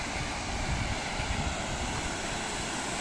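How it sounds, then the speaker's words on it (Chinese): Steady broadband rushing of water from an artificial waterfall at a mountain rest stop, continuous and fairly close, with no voices over it. "也是叫人造瀑布嘛，看蛮漂亮的嘞"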